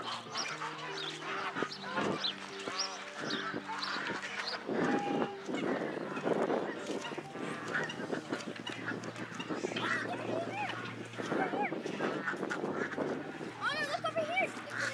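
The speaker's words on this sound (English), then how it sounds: "See all the ducks? Wow, ducks here are well fed." Ducks quack in scattered bursts at a pond where many well-fed birds gather, nearby and moderately loud, mixed with frequent conversational talk and other background noise.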